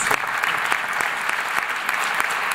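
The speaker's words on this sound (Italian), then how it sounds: "magari possiamo accoglierlo con un applauso" Audience applause welcomes the president of the Italian Meteorological Association at an evening climate-change event in Varano, a dense, steady clapping that fills the whole moment with no talk.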